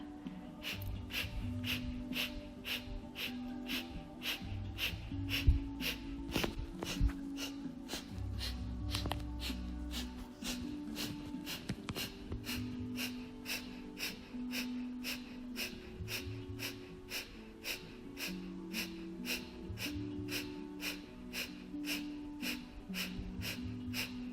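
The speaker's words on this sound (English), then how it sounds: "Slow, deep breathing or breath of fire here." Quick, forceful breath-of-fire exhalations during a yoga pose, a steady train of short nasal snorts roughly two per second, close-miked, with gentle instrumental music droning underneath throughout.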